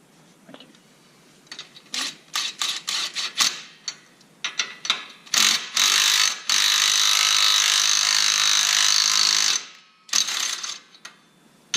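A wheel stud is fitted with a nut driven on by tools: rapid close metallic clicks and clatter, then a loud sustained whirr of a power tool for several seconds, followed by more clicks.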